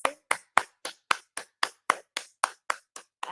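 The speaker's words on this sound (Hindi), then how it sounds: "उनके लिए जोरदार तालियां हो जाए पूरे सदन की तरफ से" Hands clap for a yoga session instructor in a steady rhythm, about a dozen sharp, evenly spaced claps close by, with no talking.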